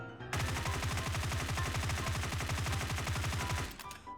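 Sustained automatic gunfire from a first-person shooter as the player holds the trigger and controls recoil with a laser attachment, a rapid, even stream of shots lasting several seconds before stopping abruptly, with no talking.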